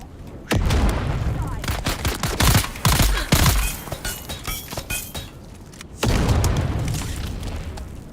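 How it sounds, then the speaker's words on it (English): Loud grenade blasts and bursts of gunfire from a Dune Awakening firefight, two heavy explosions opening and closing the stretch with rapid shots and clinking debris between. "They spam grenades like crazy."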